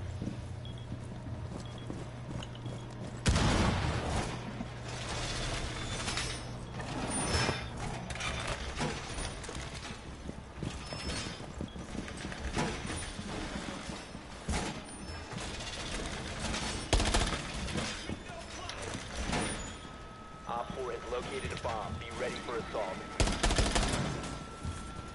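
Rapid gunfire bursts from a Rainbow Six match on PS4, sharp cracks and rattling volleys scattered through dense game noise, with players talking over the action.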